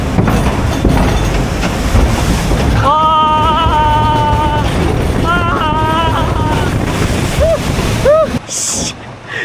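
A log flume ride at Siam Amazing Park, an old amusement park in Bangkok, rumbles and clatters along its track as riders shout and scream, ending in a brief rushing splash.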